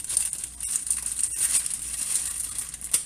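A cake mix package is torn open by hand, giving a few seconds of close, quiet crinkling, rustling and tearing of packaging with small sharp rips.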